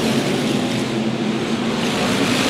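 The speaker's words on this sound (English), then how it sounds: "Both cars running very strong through the turns." SK Modified race cars roaring through the turns at Waterford Speedbowl, a continuous loud engine drone with a steady pitch from a distance.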